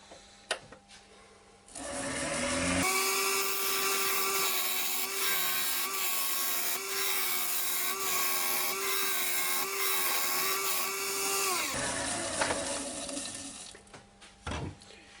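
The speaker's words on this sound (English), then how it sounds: "every now and again I just take it down with the parting tool like so" A parting tool cuts into an ash wood lidded box spinning on a lathe, a loud sustained scraping whine lasting about ten seconds, with quieter lathe hum and small knocks before and after.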